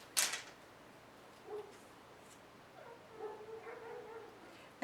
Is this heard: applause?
no